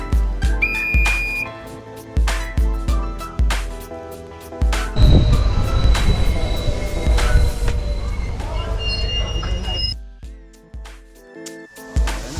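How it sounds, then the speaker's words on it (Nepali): A train pulls into Kurtha station near Janakpur, its whistle sounding among rhythmic rumbling and clanking; a steady mechanical drone builds in the middle stretch, then fades into quieter thumps as the train slows. "हामी कुर्ता स्टेसन आइपुग्यो, हाम्रो ट्रेन रोकियो है।"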